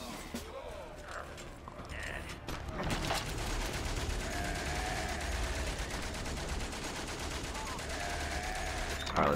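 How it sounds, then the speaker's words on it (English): Machine-gun fire rattles through a battle scene in the World War I video game Valiant Hearts: The Great War. Dense, sustained gunfire and mechanical noise fill the background. "We got some more machine gun fire here."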